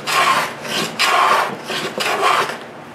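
Rhythmic rasping strokes of sandpaper worked over the wooden rim of a steel-string guitar, three long close passes in steady back-and-forth rhythm with short pauses between, loud and alone.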